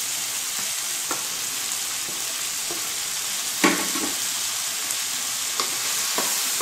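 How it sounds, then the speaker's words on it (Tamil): Ridge gourd and tomatoes sauté in a pan, a steady close sizzle with a few soft clicks of the spatula stirring, no voices over it. "போட்டு நல்லா வதக்கி விட்டுக்கலாம்."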